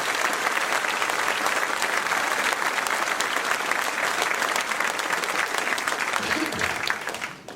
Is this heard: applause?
yes